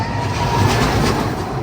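The Revolution roller coaster train at Six Flags Magic Mountain rumbles past in a continuous, fairly loud roar with a faint rattling clatter, heard outdoors without talk.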